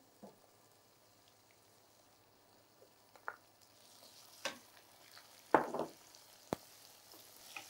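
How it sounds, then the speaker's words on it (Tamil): Tomatoes and onions frying in a pan, heard as quiet scattered sizzles and pops with a few sharper stirring clicks, sparse at first and then busier toward the end, with no voices. "இப்போ நம்ம டொமேட்டோஸும் ஆனியன்ஸ் ரெண்டுமே குக் ஆயிடுச்சு, வதக்கிட்டோம்."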